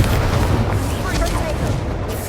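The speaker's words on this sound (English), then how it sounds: "Incendio! Incendio!" An Incendio fire spell is cast in the Hogwarts Legacy video game, making a dense, continuous roaring burst of booming fire noise that stays loud throughout, with a voice shouting over it.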